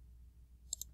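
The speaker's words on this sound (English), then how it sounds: "I'm going to click" A computer mouse clicks twice in quick succession while selecting edges in CAD software, crisp and close against a quiet low hum, with no talk.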